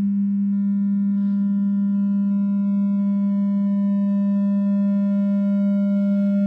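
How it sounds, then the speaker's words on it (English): A steady sine test tone passes through a distortion stage, a pure hum gaining a ladder of upper harmonics that grow stronger over several seconds, alone and unbroken. "As I go beyond this, we're about to start distorting."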